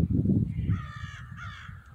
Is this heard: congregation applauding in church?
no